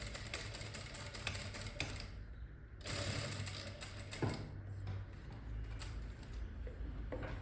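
Sewing machine stitching fabric for a coat collar blouse, giving a steady mechanical whir with rapid needle ticking. It pauses briefly near the middle, then resumes and runs on without any speech.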